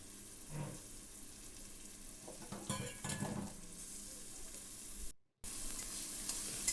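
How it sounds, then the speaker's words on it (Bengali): Onion, ginger paste, chopped garlic and tomato fry in oil in a pan, giving a soft, steady sizzle with bursts of scraping and stirring, heard close and faint, with a brief dropout of silence. "তারপর একে একে এর মধ্যে আমি পেঁয়াজ, আদা বাটা, রসুন কুচি আর টমেটোটা অ্যাড করে দেবো এবং অল্প অল্প করে ভেজে নেব"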